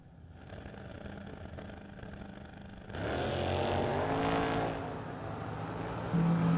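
A 1967 Dodge Coronet and a 1971 Chevy Vega launch at a drag strip, engines idling before a loud sustained roar of acceleration that holds, then eases slightly before another surge.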